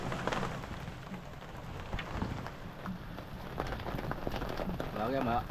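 Rain falls on a large tarp at an outdoor spot where someone is repairing an oil seal, a close, continuous patter under someone speaking Tagalog.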